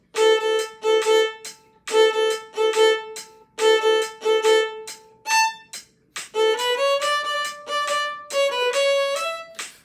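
Violin playing La Sortija as a first violin part, in short detached bursts of repeated notes, then a rising run of sustained bowed notes, close and clear with no talking.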